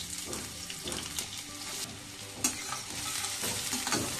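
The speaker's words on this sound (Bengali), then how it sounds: "পেঁয়াজটা হালকা ভেজে নেব," Onions frying in hot mustard oil, giving a steady crackling sizzle with occasional louder spatters and stirring clatter, close by and without speech.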